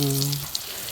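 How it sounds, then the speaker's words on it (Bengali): Potatoes fry in hot oil with a steady, close hissing sizzle, briefly under a singing voice at the start before the frying continues alone. "তেলের মধ্যে আমি দিয়ে দিচ্ছি আলুগুলো"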